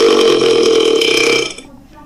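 One loud, long burp, close and resonant, that fades out abruptly near the end.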